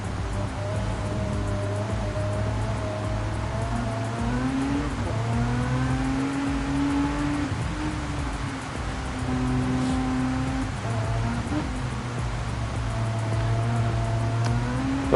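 Racing cars in GenX Racing on a wet Suzuka circuit, engines droning steadily with rising and falling pitch as cars jostle, alongside a continuous hiss like rain spray throughout.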